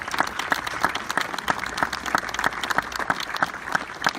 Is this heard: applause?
yes